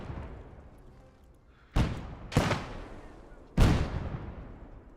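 Sniper rifle shots in Gates of Hell: Ostfront during a Finland campaign battle, three sharp loud cracks spaced about a second apart, each with a short rumbling tail over quiet background ambience.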